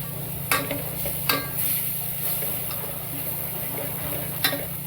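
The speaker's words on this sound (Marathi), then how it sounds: "नंतर आपण त्यामध्ये हळद टाकू आणि हिंग टाकू" Turmeric and asafoetida go into a frying pan for a Maharashtrian masvadi, with a steady low sizzle and a few short stirring scrapes near the mic.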